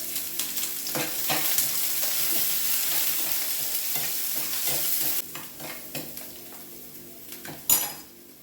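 Large onions frying in a pan with dried red chilies and curry leaves for a tamarind curry, giving a steady close sizzle with repeated spoon scrapes and clinks against the pan, quieting somewhat after the first five seconds.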